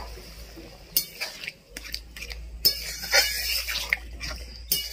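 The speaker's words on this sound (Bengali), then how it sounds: "এবার আমি জল ঢেলে দেব, আমি হালকা গরম জল দেব" Lukewarm water is poured into a pot of moong dal cooking with ash gourd, giving splashing, trickling bursts with metallic clinks from the pot, close and fairly quiet.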